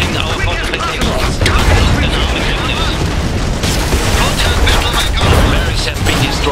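Explosions rip through a barracks in the strategy game Iron Harvest 1920+, a loud, dense wall of rumbling blasts and crashing debris that barely lets up for over six seconds, with a voice faintly mixed in.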